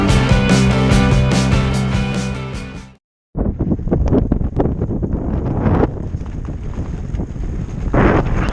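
Headwind buffets the microphone of a cyclist on a ride, a loud rumbling roar that cuts out abruptly for a moment, then returns as gusty, uneven blasts.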